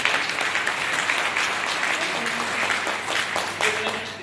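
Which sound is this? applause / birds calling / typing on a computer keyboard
applause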